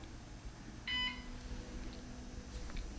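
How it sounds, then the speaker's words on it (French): A single short electronic beep sounds from an office power outlet after its button is pressed, brief and clear over a quiet room hum, followed by faint background noise. "Alors j'ai appuyé sur le bouton et maintenant ça fait bip"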